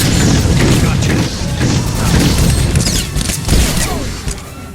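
Imperial soldiers in the Star Wars game SWTOR open fire in a loud, chaotic battle on Coruscant, with heavy booms and crashing blasts packed tightly together under a voice.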